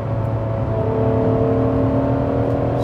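Steady, loud V12 engine drone of a Ferrari 599 SA Aperta cruising, a smooth sustained hum with a whirring tone and no voices, heard from inside.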